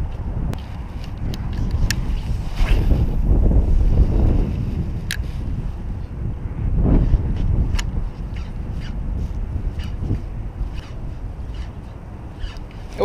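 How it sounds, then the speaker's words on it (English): Steady low wind rumble buffeting nearby while fishing, rising and falling in gusts, with scattered sharp clicks and taps. "and it is so windy right now."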